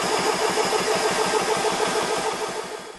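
SMACO HPA portable air compressor starting up and running steadily, a loud continuous mechanical drone with a fast regular pulsing beat throughout, no talking.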